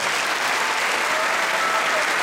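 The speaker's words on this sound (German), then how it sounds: "Riesenapplaus für euch, ihr habt das super gemacht." Applause from a festival audience at the Moers Festival finale, a dense, steady roar of clapping filling the whole moment with no let-up.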